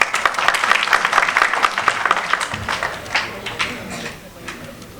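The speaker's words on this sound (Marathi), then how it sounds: "टाळ्या." Audience applause at a Marathi stage play, a dense burst of clapping that is loud at first and gradually thins and fades over several seconds.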